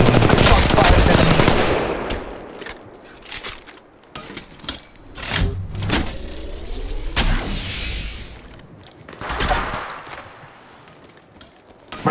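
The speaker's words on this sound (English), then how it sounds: "Shots fired at me." Rapid automatic gunfire in the mobile shooter Apex Legends Mobile, a loud sustained burst at the start followed by scattered shorter bursts and single sharp cracks, some nearer and some farther off.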